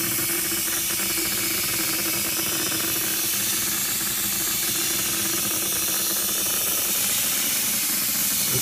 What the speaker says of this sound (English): let's apply some air pressure here to this gun